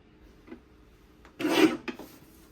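A paper trimmer blade slices through 12x12 craft paper in one short, close rasping stroke, followed by a faint click, with quiet room tone around it.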